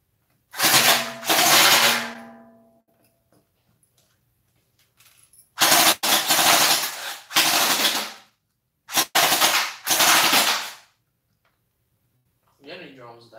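JM M4 gel blaster firing in bursts with whirring gearbox noise, three separate loud volleys of rapid mechanical clatter separated by pauses, the first long and trailing off, with a faint short buzz at the end.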